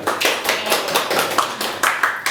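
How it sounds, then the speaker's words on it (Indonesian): Group of people clapping together during a group counseling session, a short burst of fairly close, steady applause with no talking. "tepuk tangan betul"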